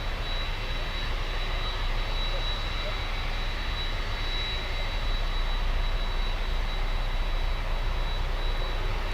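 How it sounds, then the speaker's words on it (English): A Boeing 737 MAX 8 airliner arriving at Miami after a flight from Houston, heard as a steady, continuous jet engine roar at moderate distance, with no clear rise or fade. "it's a 737 MAX 8"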